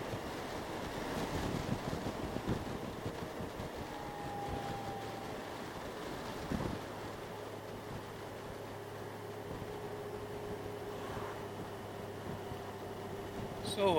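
Steady wind buffeting on a 2019 Honda Goldwing motorcycle riding on a cold, breezy day, a continuous broadband rushing roar with low engine drone beneath, moderately loud and unbroken throughout.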